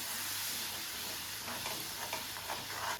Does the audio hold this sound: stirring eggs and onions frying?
yes